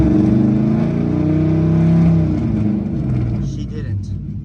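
A car engine revving up steadily, holding a strong low drone, then settling down to a smoother, quieter idle.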